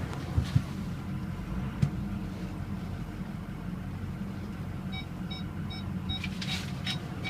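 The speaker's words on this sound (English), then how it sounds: "Let's check the parking sensors before we go on a ride." Parking sensors on a 2006 Ford F250 Lariat diesel 4x4 beep in short, quick repeated chirps while the truck reverses, over a low idling diesel rumble.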